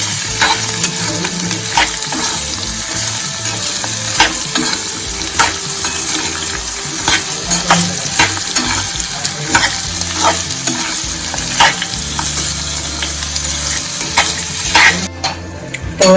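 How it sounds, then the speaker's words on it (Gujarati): Raw mango chutney sautéed and stirred in a pan for several minutes, a loud continuous sizzle with repeated rhythmic scrapes of a spoon against the pan, alone with no talk. "પાંચ મિનિટ જ આપણે આ રીતના સાંતળવાની છે"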